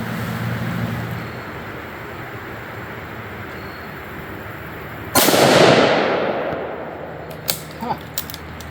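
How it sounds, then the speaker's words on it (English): A single sharp rifle report from .223 Remington accuracy testing bursts out loudly partway through, with a long decaying tail, followed by a few fainter clicks and knocks; no one speaks. "But we're shooting 5-shot groups, so let's see if one of them throws way off"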